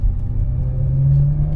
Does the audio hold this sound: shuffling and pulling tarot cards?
no